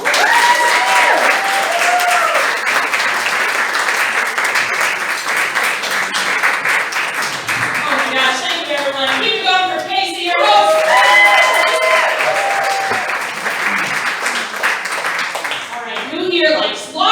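An audience in a standup comedy club applauds steadily to welcome comedian Stacey Axler to the stage, a loud, sustained wash of clapping with scattered cheers and voices mixed in throughout.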